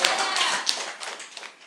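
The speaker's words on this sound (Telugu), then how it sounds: "గట్టిగా చప్పట్లు కొట్టండి." An audience at a Christian sermon claps hard and close, a dense, continuous patter of many hands that holds steady, then thins slightly toward the end.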